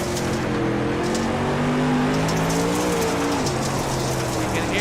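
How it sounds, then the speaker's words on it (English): A race car engine on the All-Star Racing Series track at Lanier, throttle rising and falling in steady sweeping tones, loud and continuous with rumbling track noise underneath. "You can hear the throttle work."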